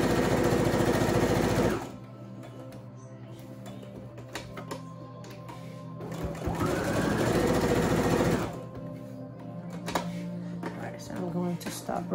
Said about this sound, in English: you can just go ahead and sew like what I'm doing